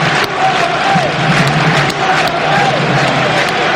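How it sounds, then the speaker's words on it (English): Tranmere football fans cheering and chanting at Wembley Stadium during the Newport versus Tranmere match, a dense, steady crowd roar with rising chant phrases throughout, loud and continuous. "It's the Tranmere fans we can hear around Wembley at the moment."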